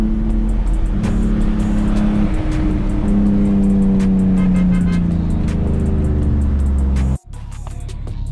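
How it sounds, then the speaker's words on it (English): A truck doing burnouts roars with a loud, sustained engine drone and harsh tire noise, pitch rising and falling with revs, before cutting abruptly near the end. "Truck is just doing burnouts."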